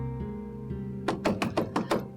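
Five sharp knocks on a door in quick, even succession, loud and close, following a low background music bed.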